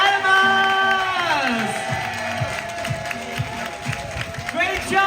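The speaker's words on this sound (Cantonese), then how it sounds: "我哋再俾啲熱烈嘅掌聲" A crowd at a Hong Kong Disneyland dance-off party finale claps and cheers, loud and sustained beneath music and an amplified announcer's voice.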